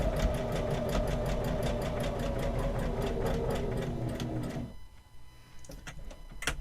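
A domestic sewing machine stitching steadily and close by, its motor whirring with rapid regular needle clicks, then stopping abruptly near the end, leaving near-quiet with a few faint clicks.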